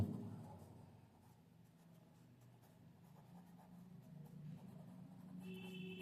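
A pen scratches out a maths solution on paper, faint and close, with soft continuous strokes and small pauses between marks, a quiet room hum underneath and no talking.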